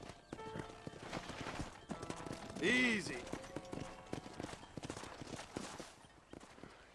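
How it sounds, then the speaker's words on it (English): Horse hooves clip-clop at a walk in the Red Dead Redemption video game, a steady close rhythm running under a man's speech, with a brief horse whinny midway. "Hit your horse and wait for me by the stable."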